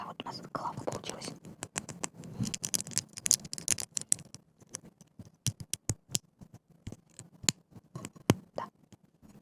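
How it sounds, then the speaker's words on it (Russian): Plastic construction toy pieces are gnawed and bitten with the teeth in a close, quiet series of sharp clicks, scrapes and crunches, interspersed with soft mouth sounds and whispered talk. "Я сейчас зубами это грызть начну."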